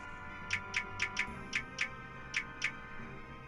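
A clock ticks in the video game Wallace & Gromit's Grand Adventures, eight crisp, regular ticks in pairs over a steady low background hum, close and clear with no talking.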